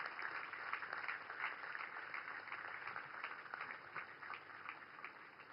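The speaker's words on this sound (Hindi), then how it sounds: "जोरदार तालियों के साथ स्वागत कीजिए" Sustained crowd applause at a naval warship inauguration ceremony, a dense steady wash of clapping heard from a distance, with a faint tone running through it.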